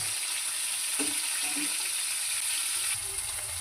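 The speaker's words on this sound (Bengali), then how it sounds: "মাছটাকে ভাজতে দিলাম" Steady sizzling hiss of snakehead fish frying in hot oil, continuous throughout, with a couple of faint clinks.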